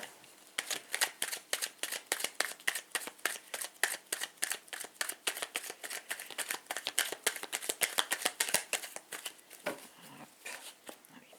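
Tarot cards being shuffled, a long run of quick, crisp riffling slaps in an irregular rhythm, close and moderately quiet, with no talking.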